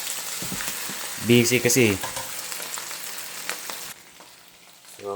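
Sisig sizzles and fries in a pan as a home cook's ulam, a steady close crackle with louder bursts of stirring and scraping, and a brief word spoken over it.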